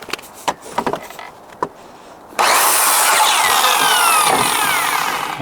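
After a few handling knocks, a power saw roars up abruptly and runs loudly and steadily through wooden pieces for a Christmas tree build, its pitch shifting slightly as the blade works through the cut.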